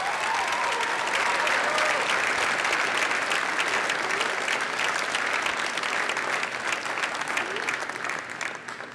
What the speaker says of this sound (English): Class of 2009, can you give them a big round of applause?